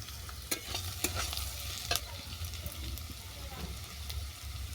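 Boiled gourd peel being stirred and fried in a pan: soft sizzling with several sharp spatula scrapes and taps over a low hum, fairly faint.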